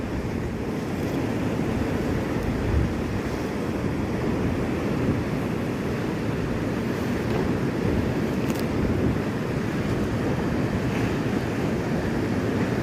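Large ocean waves churned up by a cyclone roll and crash along the sea shore at Point Pedro, a steady loud surf roar with wind noise running through the whole stretch and no talking.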